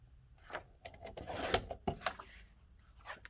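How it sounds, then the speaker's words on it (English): Cardstock sliced with a paper trimmer for a scrapbooking project, a short close scraping rub with a few sharp clicks and a brief rasping swipe, alone and fairly quiet. "put it in the trimmer short and cut it at 2 3/4."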